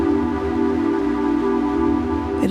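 Elektron Digitone 2 FM synthesizer holding a steady, dense sustained pad chord with a slight wavering texture, loud and close with no talking, ending in a brief noisy flick.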